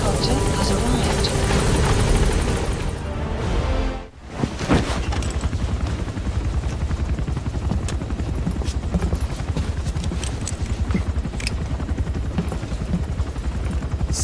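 A support helicopter arrives in the video game Metal Gear Solid V: The Phantom Pain, its rotor roar a loud, dense, continuous wash that briefly dips around the four-second mark before surging back steadily.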